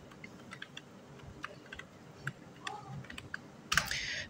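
A file name is typed on a computer keyboard, a run of scattered light key clicks at close range over a quiet background, ending in a brief louder clatter.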